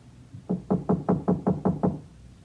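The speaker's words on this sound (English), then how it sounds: "But nobody answered my knock." A hand knocks on a house door in a 1950s radio drama: seven evenly spaced, firm knuckle raps in a quick steady rhythm, close and alone.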